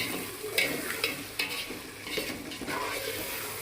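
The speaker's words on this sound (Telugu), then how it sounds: "ఇందాక తీసుకున్న పొడి కొట్టుకున్న పొడి అంతా కూడా ఇందులో వేసేస్తాం మొత్తం వేస్తాం చూడండి జాగ్రత్తగా కలుపుకుందాం" Ground spice powder is being stirred into frying brinjals, giving a close sizzle with irregular scrapes and taps of a spoon against the pan over several seconds, no speech.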